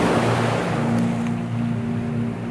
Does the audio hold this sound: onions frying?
no